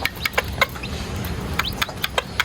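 Chicks pecking and peeping while eating rice from a plate nearby, a run of short sharp chirps and taps in an irregular rhythm over a soft background.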